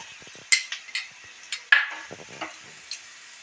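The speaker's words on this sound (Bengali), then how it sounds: "বিটটা ভাজা ভাজা হয়ে গেছে" Beetroot pieces fried in a pan for beetroot halwa, with sharp spoon clinks and scrapes against the metal over a low background sizzle, several distinct strikes in an irregular rhythm, close and clear.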